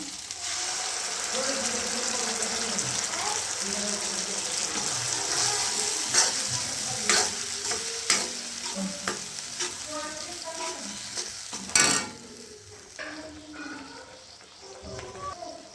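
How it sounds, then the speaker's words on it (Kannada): Tomatoes frying in a pan for a bitter gourd palya, a continuous sizzle broken by repeated scrapes and clicks of stirring and one sharp clatter, with a voice faintly present at times. "ಇದೆಲ್ಲ ಟೊಮೆಟೊ ಹುರಿಲಾತೀಗ"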